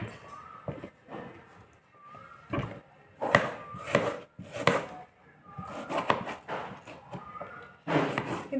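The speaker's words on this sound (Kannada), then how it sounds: "ಸ್ನೇಹಿತರೆ, ಈಗ ನಾನು ಟೊಮೆಟೊ ಹಣ್ಣನ್ನು ಹೆಚ್ಚುತ್ತೀನಿ." Tomatoes chopped with a knife for okra sambar, the blade striking the board in an irregular series of close, crisp thuds with short pauses between runs.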